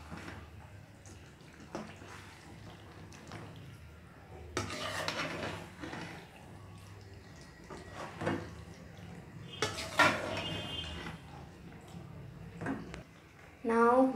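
Spoon clinking and scraping in a pot of gooseberry pickle being stirred, intermittent metallic knocks and scrapes at close range, fairly quiet, with occasional talk.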